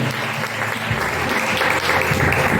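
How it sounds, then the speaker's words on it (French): Church congregation applauding during a worship service, a dense steady wash of clapping held at even loudness for a few seconds, with faint voices mixed underneath. "Acclame bien Jésus."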